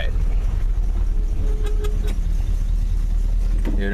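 A 1967 Special Deluxe car engine idles while warming up, with a steady, loud, close rumble throughout and a faint voice briefly heard under it.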